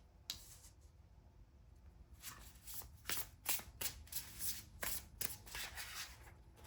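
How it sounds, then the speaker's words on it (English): Tarot cards being shuffled and drawn from a deck, a run of crisp riffling and snapping bursts that start sparse and grow busier and louder, close by with no talk. "let's draw some cards from this deck"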